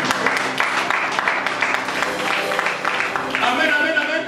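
A church congregation at a Montréal evangelical service claps loudly and continuously, with dense, even applause and faint voices mixed in.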